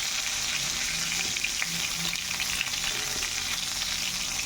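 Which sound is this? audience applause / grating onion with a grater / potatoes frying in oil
potatoes frying in oil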